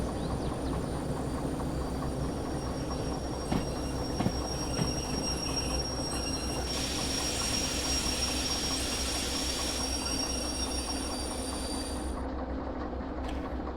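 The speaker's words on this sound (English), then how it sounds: "Alright, let's stop our train here." Train braking to a stop in the railway simulation game Derail Valley: steady rolling rumble with wheel squeal, occasional clicks and knocks, and a brief rise in high hiss before the sound settles.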